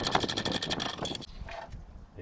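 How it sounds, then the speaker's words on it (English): A socket wrench ratchets rapidly loosening a bolt on a Toyota Prius 12-volt battery, a close, fast string of metallic clicks for about a second, followed by a few quieter taps. "Loosen this bolt."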